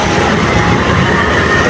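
An MRT train runs at a station terminal near Green Hills Mall, giving a loud, steady rumble of rolling rail cars that fills the short stretch without pause and carries no voices.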